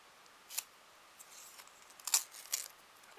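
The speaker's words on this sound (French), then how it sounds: "Et on coupe." Scissors snip a scrap of ribbon for a handmade flower card, three or four short, crisp close cuts spread over a few seconds in a quiet room.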